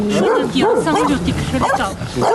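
Dogs bark and whine at a private house in Kostiantynivka, Ukraine, as a woman is evacuated without them, with close, repeated yelping barks over people talking.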